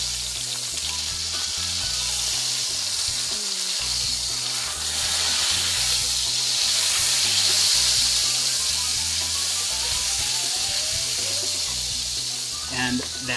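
A steak's fat cap sears in a hot pan, giving a loud, steady sizzle and hiss that holds throughout with slight swells, while a voice talks over it.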